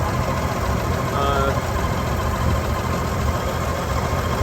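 The 300 engine in a 1958 GMC 100 Napco 4x4 truck idles steadily with a low, even running drone and vibration throughout, with no talk.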